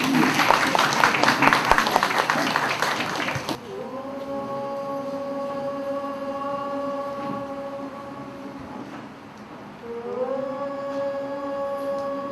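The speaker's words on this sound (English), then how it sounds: "The completion of our family with an applause." A short burst of group applause in a class gathering, dense clapping for about three seconds that cuts off abruptly, followed by sustained tonal singing or chanting.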